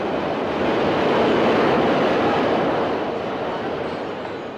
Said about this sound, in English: Oh, do you feel the breeze from the subway?